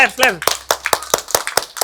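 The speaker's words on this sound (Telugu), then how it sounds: "గట్టి క్లాప్స్" Children in a pre-primary school assembly clap loudly after a birthday song: a quick, rhythmic run of sharp, close claps, following a brief adult voice at the start.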